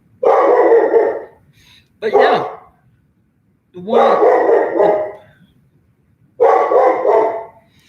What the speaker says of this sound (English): He just bark because he hear things in the background.